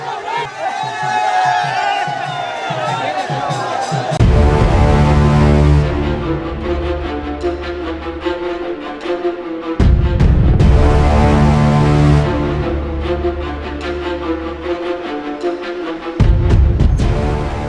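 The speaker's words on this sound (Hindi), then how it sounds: "सैकड़ों की संख्या में भीड़ जो है वो नजर आ रही है हमें इस वक्त" Dense crowd of Mamata Banerjee supporters cheering and shouting at a street road rally in Howrah, a loud, continuous roar that swells in repeated surges, with tonal chanting or horns layered through it.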